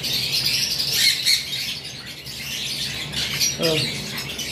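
Farm birds squawk and chirp in several short bursts, close by, with a brief low rasping call near the end and quiet gaps between.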